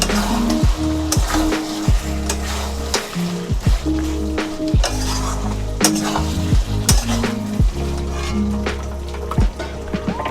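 Chicken sizzles and fries in a pan while being stirred for tehari, a continuous loud crackle broken by repeated scrapes and clinks of a spoon against the pan.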